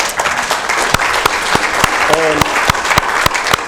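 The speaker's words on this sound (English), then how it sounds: "That deserves a round of applause." An audience at a First 5 Sacramento Commission meeting claps steadily and loudly for the whole stretch, a broad wash of hands with sharper individual claps standing out and a brief voice over it.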